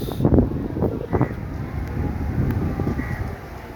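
Wind blowing dust outdoors, a steady low buffeting rumble across the microphone, with a couple of louder gusts early on that settle into a constant outdoor wash.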